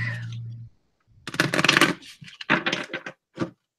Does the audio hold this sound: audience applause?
no